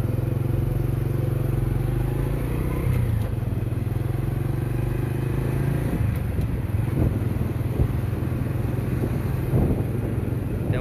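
A motorbike ridden along a road in Vientiane, its steady engine drone running throughout with a shift in pitch near three seconds and light clatter later; no talking.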